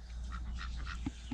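Rouen ducks resting on a poultry farm give a few short nasal quacks, faint and slightly distant over a low rumbling background.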